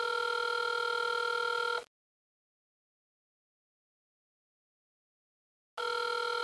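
Telephone ringback tone on an unanswered call, a steady multi-tone burst that stops, leaves about four seconds of silence, then sounds again, moderately loud and alone.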